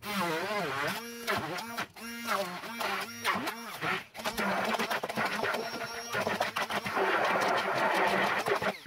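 An immersion blender whirs through frozen hot chocolate made with Cadbury chocolate and half a cup of water, its loud motor running steadily for the whole stretch, wavering in pitch as the load changes, with no voices.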